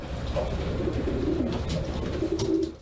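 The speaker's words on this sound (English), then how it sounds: "an elite racing pigeon" An elite racing pigeon cooing in soft, repeated low warbling phrases, close and clear over a steady background hum, with no talk.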